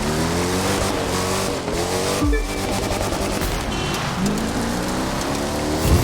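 Rallycross car from The Crew 2 in a dusty off-road setting, its engine droning loud and steady with rising and falling gear pitches, a brief gap of skidding noise midway, then revving up again.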